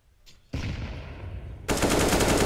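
Counter-Strike gunfire during a professional match, starting with a short burst and then giving way to loud, rapid automatic fire that grows denser and louder near the end.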